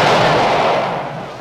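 A loud, close burst from a Ziki bomb exploding in the kart racing game Super Roblox Kart, a broadband blast that decays over about a second and a half.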